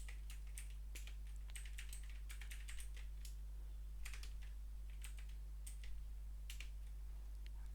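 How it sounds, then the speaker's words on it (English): Typing on a computer keyboard in a JavaScript coding console, a steady run of light key clicks in irregular bursts, quiet and close against a low steady hum. "I can type whatever I want here"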